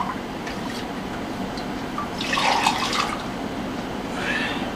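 Water preheated to about 100 degrees pours into a vessel to start yeast fermenting for a rye-multigrain moonshine mash, a continuous close splashing stream that grows briefly louder partway through, with no talk.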